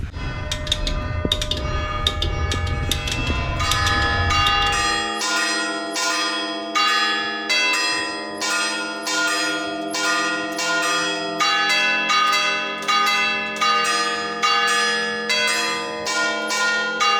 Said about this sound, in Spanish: Nada más que en este caso tenés 4 notas, porque tenés solo 4 campanas.